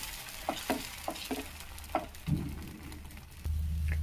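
Pesarattu, a moong dal dosa, cooking on a pan, with a faint low sizzle under scattered soft taps and scrapes, then a steadier hiss near the end.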